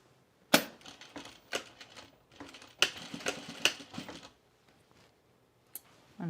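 A sewing machine stitches the casing of a pullover camp dress in short bursts of rapid mechanical clatter, separated by sharp clicks and quiet pauses, heard up close.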